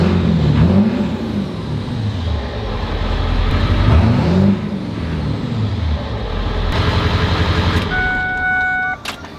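A Ford truck with a 4R100 transmission fault runs with a loud, close engine drone that rises and falls in pitch like light revving rather than a steady idle, ending with a brief high whine.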